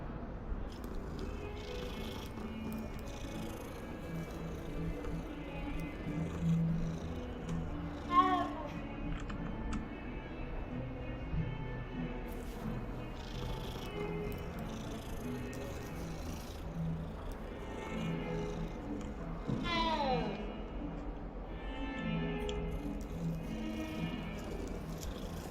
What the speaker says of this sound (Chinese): 猫咪。